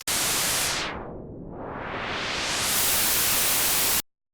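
Loud white noise hissing, swept by an auto filter that dips to a muffled whoosh, then rises back to bright, full static before cutting off.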